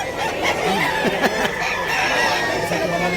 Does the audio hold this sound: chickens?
yes